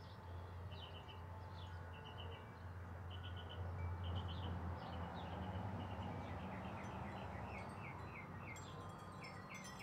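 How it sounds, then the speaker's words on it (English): Small outdoor birds give faint, repeated chirps and tweets across the whole stretch, set against a steady low rumble and broadband ambient noise. "I could hear a bird."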